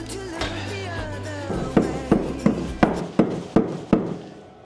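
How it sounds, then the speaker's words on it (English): Seven or eight sharp hammer strikes on nails in a steady rhythm, close and loud, following a stretch of low rumbling and scraping during kitchen demolition at the back of a house. "Would you like to comment on my hammering?"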